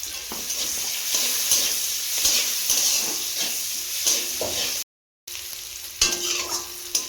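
Spices with salt and turmeric fry lightly in a pan, giving a steady close sizzle with soft stirring scrapes, briefly cut to silence for a moment before the sizzle resumes.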